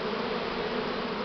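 Buckfast honey bees swarming produce a thick, constant hum of many wings, close and even in loudness from start to finish.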